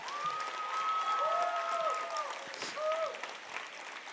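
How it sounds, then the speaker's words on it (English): An audience applauds after an Arangetram dance performance, steady dense clapping with long, sustained vocal whoops or cheers rising above it in two stretches. "give one huge round of applause for every single person who brought this whole thing to life today"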